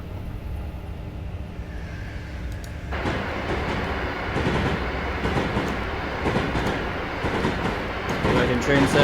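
Virgin train service running at Watford Junction in Train Simulator 2019, a steady rumble of the moving train that swells and turns into a busier clatter partway through, continuous throughout.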